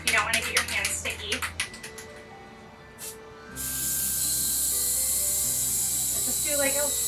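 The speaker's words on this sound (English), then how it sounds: "you take a tacky spray glue" A steady, loud hiss of tacky spray glue from an aerosol can runs for several seconds after some clicking and tapping.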